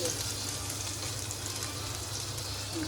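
Peanuts dropped into hot oil for a prawn thecha dish, giving a dense, continuous sizzle and crackle that stays close and even throughout, with no voices over it.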